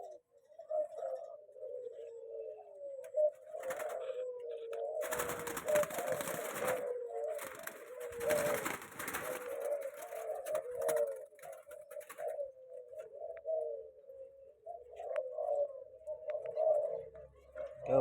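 Colour-morph spotted doves and zebra doves kept as breeding stock in Kebumen, Central Java, coo steadily and overlap throughout, with brief rattling clatter bursts in between.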